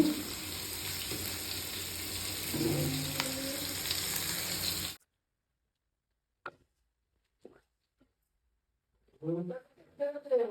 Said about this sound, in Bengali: পেঁয়াজটাকে ভাজছি, এই যে ক্যাপসিকামটা দিয়ে পেঁয়াজের এটা দিয়ে দিচ্ছি